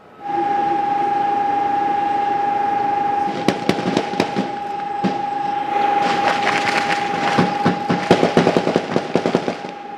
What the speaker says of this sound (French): Pour moi, difficulté pour estimer la distance de ces tirs, je les estime à quelques centaines de mètres.